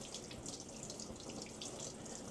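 Tap water runs steadily into a sink to rinse out a jar, a continuous close hiss and splash with no talking.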